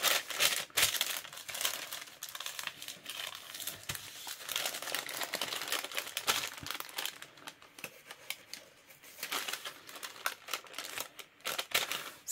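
A shipping bag is closed while an order is packed, giving a steady run of crinkling, rustling plastic and paper handling at close range, quiet and continuous with no talking.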